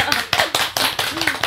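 An audience claps in a studio setting, a short burst of uneven, close hand claps with voices mixed in.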